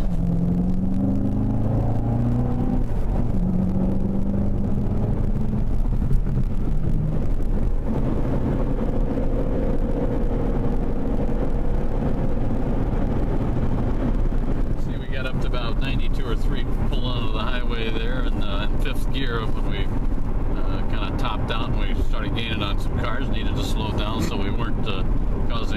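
A 2014 Chevrolet Corvette Convertible drives on a highway with a steady loud road and engine rumble and wind buffeting throughout, and voices talk over it.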